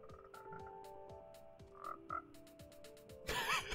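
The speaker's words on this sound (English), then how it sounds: "I have frogs stuck in here." Frogs in the Minecraft video game croak in a steady run of short, faint calls, followed by a brief louder rustle at the end.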